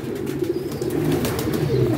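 Pigeons at a pigeon club coo in low, rolling throbs, a close and fairly loud chorus of overlapping calls with no talking.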